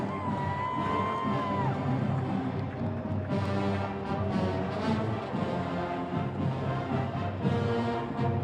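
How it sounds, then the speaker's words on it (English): Parade crowd at the Houston Livestock Show and Rodeo cheering for the Longhorn marching band, a continuous wash of whoops, yells and applause-like roar with scattered nearby voices. "I'm going to let y'all cheer this band on."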